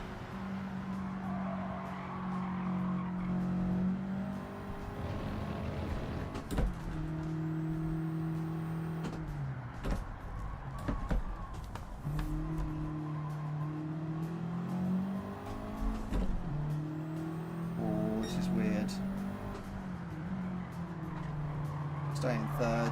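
Race car engines roar through the Indy circuit in Gran Turismo 7, rising and falling with repeated gear shifts, downshift blips and occasional tire squeal, loud and continuous while someone talks over them.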